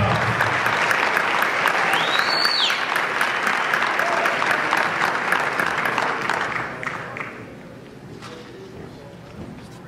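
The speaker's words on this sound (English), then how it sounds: "Let's give them a big round of applause." An awards-show audience at a gospel music ceremony breaks into loud, sustained applause with scattered cheers, a brief whoop rising above it, before the clapping thins and fades toward the end.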